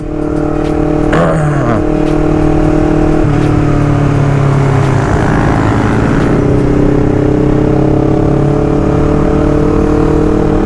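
Loud engines rev and roar past up close during a night ride, several motorbikes accelerating one after another over a steady rumble of traffic near the Simpang Nangka flyover.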